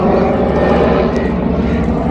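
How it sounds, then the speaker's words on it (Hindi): Helicopter passing overhead near a cattle farm, a loud, steady rotor and engine roar that fills the whole stretch without letup. "सॉरी यार ये हेलीकॉप्टर का शोर बहुत आ रहा है"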